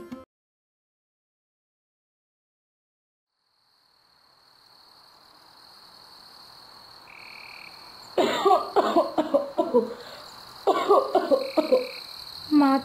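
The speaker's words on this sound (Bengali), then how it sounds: "মা তো এখনো কাশছে। মায়ের ঘরের থেকে কাশির আওয়াজ পাচ্ছি।" An elderly woman coughs in an animated Bengali folk tale, with two close bursts of harsh coughing following a quiet stretch and a faint steady tone.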